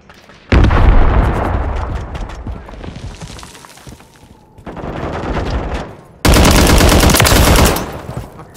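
Loud bursts of rapid gunfire and explosions from a Call of Duty MW3 team deathmatch on the Emergency map with an MTZ-762 battle rifle, coming in three heavy volleys separated by brief lulls.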